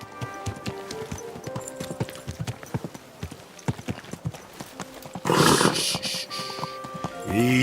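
A horse's hooves clip-clop at a walking pace in the video game Kingdom Come Deliverance 2, with distinct, spaced hoofbeats over a quiet town ambience that then swells with a louder crowd or market bustle.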